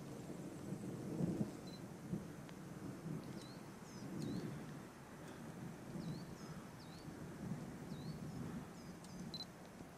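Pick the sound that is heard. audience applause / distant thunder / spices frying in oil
distant thunder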